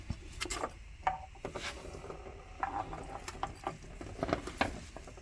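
A pry bar wiggles an oil pump loose from a Ford engine, making scattered small metallic clicks, scrapes and rubbing creaks, close and fairly quiet, in irregular bursts with brief pauses.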